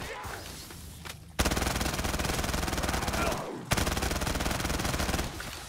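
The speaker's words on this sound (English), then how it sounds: "That was really the worst shooting I've done in a very long time." Sustained automatic gunfire from a Call of Duty Zombies game fight, two long loud bursts of rapid rattling shots separated by a brief pause, with quieter game ambience before and after.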